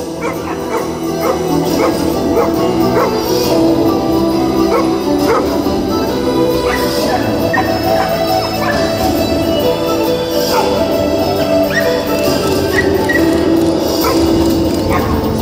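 Herding dog working a flock of sheep outdoors, giving repeated sharp barks and yips close by over a continuous background of flock noise and movement.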